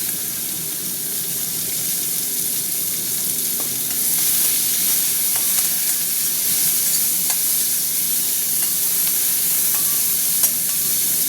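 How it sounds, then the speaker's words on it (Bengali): Sliced onions with whole cumin seeds fry in oil in a pan, giving a continuous, even sizzle with a few faint clicks of stirring, close and fairly loud throughout, with no one speaking. "পেঁয়াজটা একটু ভাজা ভাজা হোক"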